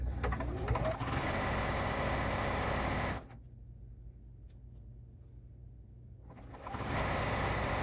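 A sewing machine runs steadily while stitching quilt binding, a dense close mechanical whir for about three seconds that stops for a quiet pause and then starts up again, with no talking.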